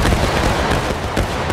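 A loud, dense volley of musket fire in the Civil War game War of Rights, a continuous crackling roar of many overlapping shots with no gaps.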